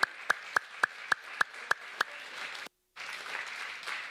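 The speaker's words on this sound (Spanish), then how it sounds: "Dele palmas al Señor." A church congregation claps hands for the Lord during a Spanish-language sermon, first about eight sharp evenly spaced claps, then after a brief silence, a dense wash of applause.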